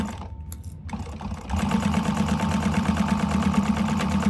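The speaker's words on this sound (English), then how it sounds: "we're gonna sew the base, the back of the bag to the bottom of the bag" A sewing machine stitches the back of a candy bag to its bottom, starting after a few short bursts and then running in a steady, rapid mechanical chatter up close.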